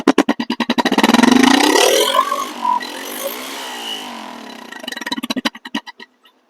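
A second-hand Bajaj Discover 135cc motorcycle engine pops in quick, loud pulses, swells into a sustained rev, fades, then returns to distinct firing beats that slow and die away.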